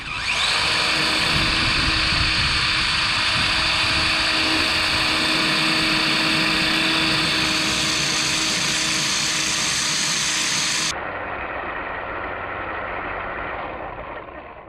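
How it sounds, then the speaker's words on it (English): A 1/16 scale Linxtech 16889 RC monster truck runs at near full throttle with a steady high electric whine that drops abruptly to a lower, quieter pitch before fading, close by and without talk. "The diff, as soon as the diff gives way, one wheel, it starts spinning out."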